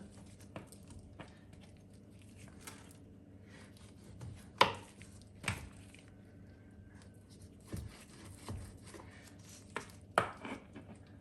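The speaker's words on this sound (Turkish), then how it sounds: "Kanatlı, kanatlara şöyle çizikler atıyorum." Knife scores cuts into about 750 grams of raw chicken wings, a handful of sharp isolated chops and taps on a board spread over quiet, low background hum.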